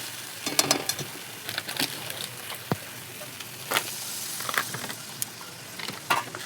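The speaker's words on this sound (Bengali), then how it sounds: "দেখুন আমার কষানো প্রায় হয়েই গেছে।" Soybean curry cooks down in a pan under a constant close sizzle, with repeated scraping bursts from a spoon stirring the spices at uneven intervals; nobody speaks.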